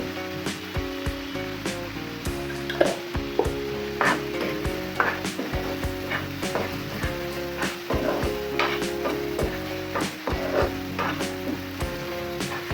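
Ginger, garlic and onion frying in a pan for a Chittagong loitta fish curry: a loud, close, continuous sizzle with repeated scraping and stirring strokes of a spatula.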